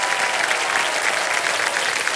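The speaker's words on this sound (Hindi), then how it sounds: "उनको ताली बजाओ जोर से।" A studio audience on the quiz show Kaun Banega Crorepati claps in a steady, dense burst of applause, even and sustained throughout, with no voices standing out.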